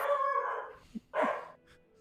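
A dog gives a couple of drawn-out, whining bark-like vocal sounds, close and fairly loud, with a brief pause between them and no talking over them.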